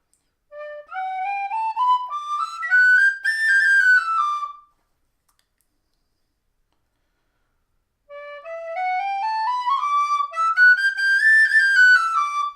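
A Burke tin whistle plays a sweet, pure tone in two separate rising and falling melodic phrases, each about four seconds long, clear and close with silence between them.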